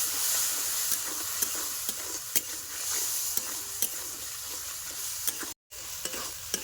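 Spices, salt and turmeric sizzle and are stirred in a pan of oil for a sour-spicy fish curry, a continuous close frying hiss broken by sharp spatula scrapes and clacks, with a brief dropout near the end.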